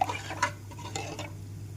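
A spoon stirs ragi porridge cooking in a pot over a low flame, giving a few soft scraping strokes and light clinks over a steady low hum, close and fairly quiet, with no voices.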